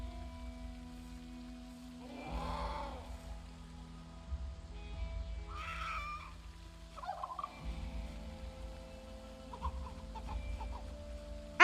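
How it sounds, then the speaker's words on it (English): Stressed turkeys in the video game Project Zomboid let out faint, scattered gobbles and clucking calls in short bursts, separated by quiet gaps. "I'm starting to feel bad for the turkeys."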